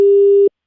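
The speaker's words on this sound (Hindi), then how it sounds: "Sorry sir, phone got disconnected." A single steady busy tone on a phone line after a call drops, loud and clean, lasting about half a second before cutting off abruptly.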